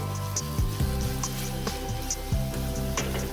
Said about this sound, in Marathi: एकदा मस्त फोडणी हलवून घ्यायची मित्रांनो